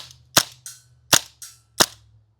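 A WE M712 Mauser gas airsoft pistol fires BBs in a rapid string of five sharp, loud, close-up pops, alternating stronger and softer reports with no talking.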